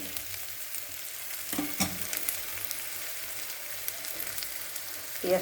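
Onions sizzle steadily in a pan for a Bengali potato curry, a continuous frying hiss with a few soft clinks of stirring, close and moderately quiet, with no talking.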